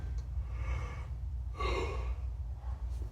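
A man's yawn during a core workout, a drawn-out breathy gasp swelling around the middle of the clip over steady low background hum, with fainter breaths before and after.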